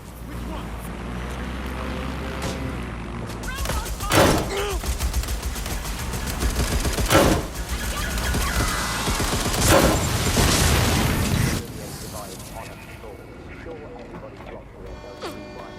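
Gunfire in Watch Dogs Legion: bursts of automatic fire and loud single shots crack over a steady game backdrop, with heavy volleys peaking around the middle before the shooting stops and things quiet down.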